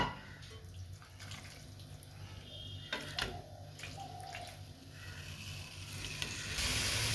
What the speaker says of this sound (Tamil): இப்போ ஒரு குக்கரில் நம்ம கழுவி வச்சுருக்க பீஃபை இதில் சேர்த்துடலாம்